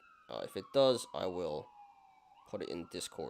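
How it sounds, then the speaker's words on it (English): A police siren passes outside, a steady wailing tone sliding slowly in pitch beneath and between close indoor speech. "Sorry about the sirens, guys."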